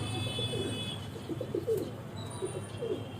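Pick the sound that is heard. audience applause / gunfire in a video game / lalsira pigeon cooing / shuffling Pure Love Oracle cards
lalsira pigeon cooing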